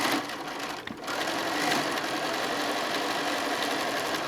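A sewing machine runs steadily, stitching a gray strip onto a quilt top with a continuous fast mechanical whir and a brief pause near the start.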